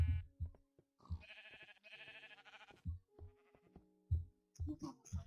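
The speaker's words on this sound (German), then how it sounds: "Wo ist mein Schaf?" Sheep bleating in the video game Minecraft, a few wavering bleats close up, broken by thuds and other game noises.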